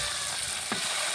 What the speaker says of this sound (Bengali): তারপর একটু একটু জাল দিয়ে মাছগুলো ভেজে নেব।